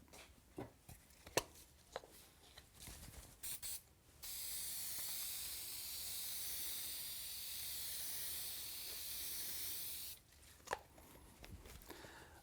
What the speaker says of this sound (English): I put a light coating of spray adhesive on the back of the liner